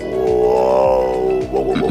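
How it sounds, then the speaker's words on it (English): Male koala gives a loud, close, deep bellow, a rasping snore-like grunt with pulsing throbs lasting about two seconds. "Male koalas make a bellowing sound like this."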